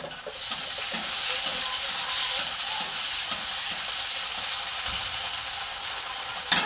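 Small potatoes frying in a pan give off a steady, dense sizzle that holds close and even for the whole stretch, with faint stirring scrapes and no talk.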